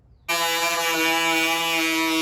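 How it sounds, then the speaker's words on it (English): A Ryobi rotary tool cuts into a plastic model canopy for a pink Rolls Royce FAB 1 build, a steady high-pitched whine starting abruptly after a brief silence and holding loud and constant throughout. "I'm going to give it a go with this, the Ryobi rotary tool"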